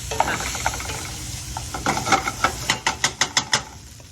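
Onions frying for soup sizzle steadily in a pan while a utensil stirs them, the scraping strokes growing into a quick, regular rhythm of about a dozen close, distinct scrapes.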